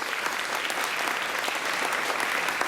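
Brief, steady audience applause for the accompanist at an elementary school first-grade music showcase, a dense patter of many hands throughout.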